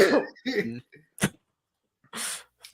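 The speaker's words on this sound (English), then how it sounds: "One of those old men in a movie theater cough." Several short, harsh bursts like coughs and throat clearing, close up, separated by brief pauses.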